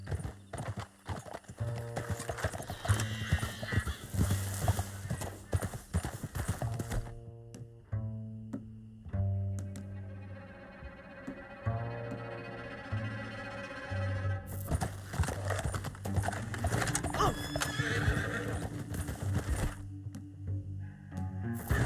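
Horses galloping in the video game Red Dead Redemption 2, a fast rhythmic clatter of hooves with a neigh, heard close and loud alongside a sustained tonal game sound in the middle.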